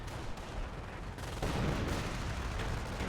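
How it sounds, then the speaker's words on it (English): Mortar and artillery blasts in the World War II strategy game Company of Heroes, heard as a dense, loud barrage of booming impacts and crackling fire that swells further about halfway through, with no talking. "Medic gets taken out by a mortar."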